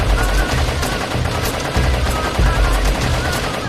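Dense gunfire in the video game LISA the Hopeful, a loud continuous rattle of overlapping shots with a commentator's voice talking over it throughout.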